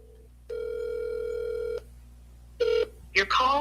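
Telephone call ringing before being answered: a long steady electronic ring tone, then a short second tone, followed by a brief faint burst of other sound at the end, heard alone and fairly close.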